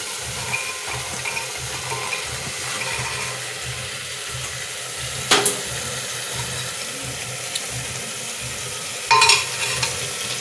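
Chickpeas and potatoes being stirred through masala in a pan, a steady scraping and sizzling texture with a couple of louder clanks of the spoon against the pan, close and continuous with no talking.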